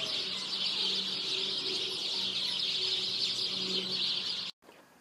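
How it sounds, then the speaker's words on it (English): Sparrows and other birds in a backyard chirp busily and continuously, a dense chorus of high tweets over a low background hum, ending with a sudden cut. "Listen to the sparrows and birds go crazy!"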